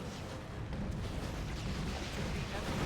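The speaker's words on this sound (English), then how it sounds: "There's a creeper barrage on these Venom Brood" A creeper artillery barrage pounds Venom Brood infantry in the strategy game Dawn of War 2: Retribution, a continuous, rumbling wall of overlapping distant explosions with no clear gaps.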